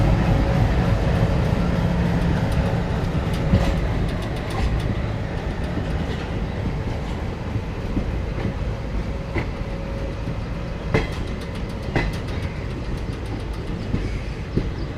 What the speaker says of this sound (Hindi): एलकेओ का डीजल लोकोमोटिव।